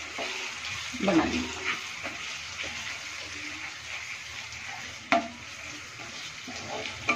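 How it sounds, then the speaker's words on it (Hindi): Chicken for chicken sukha being stir-fried in a pan, a continuous sizzle broken by a few scraping stirs and clanks, with a brief spoken remark over it. "फिर से हम इसको भूनते हुए"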